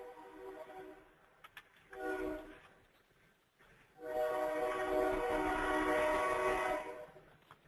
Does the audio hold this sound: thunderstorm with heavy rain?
no